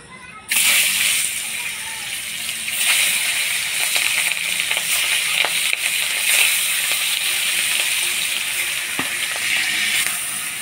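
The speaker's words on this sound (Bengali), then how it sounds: "এবার পাঙ্গাস মাছগুলো ভাজি নিব।" Pangas fish pieces fry in hot oil with a steady, loud sizzle that runs nearly the whole time, broken by occasional crackles and pops after a sudden start.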